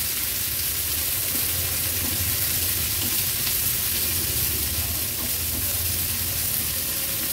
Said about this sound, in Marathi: कांदा तेलावर थोडासा परतून घ्यायचा